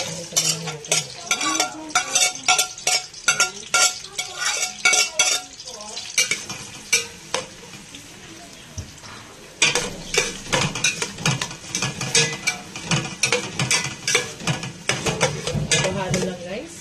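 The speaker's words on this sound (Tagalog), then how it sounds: "Sutayin natin ito, guys. Sutayin natin ito. May bawang." Garlic sautéing and sizzling in a pan while a utensil stirs and scrapes in steady bursts, with clinks of metal against cookware, close and fairly loud, a quieter pause in the middle before the stirring picks up again.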